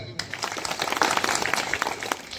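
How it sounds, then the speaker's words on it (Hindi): Crowd applause at a Congress Lok Sabha election rally held as a village public meeting, a dense, steady patter of many hands clapping for the whole stretch with some voices mixed in. "इसके लिए भी आप ताली बजाएं।"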